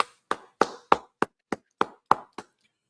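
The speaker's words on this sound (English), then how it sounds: "All right, clap it up" Nine sharp, evenly spaced hand claps in a steady rhythm, close and fairly loud, from a gathering audience at the opening of a scripture class, with no talk over them.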